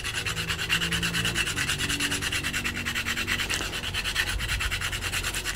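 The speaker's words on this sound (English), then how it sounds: "I want to grate in some of my nutmeg." A whole nutmeg is rubbed against a small metal nutmeg grater in a kitchen. It makes a close, steady run of quick rasping strokes in an even rhythm, with no voices.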